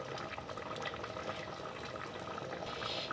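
A pot of pumpkin, brinjal and sweet potato stew simmers steadily, a soft, continuous bubbling hiss at low volume with no talking.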